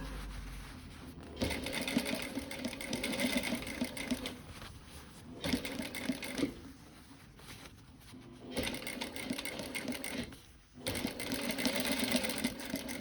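A sewing machine stitches the front rise seam of a pair of jeans, running in several quiet bursts of rapid whirring stitches separated by short pauses.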